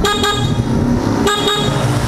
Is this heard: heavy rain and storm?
no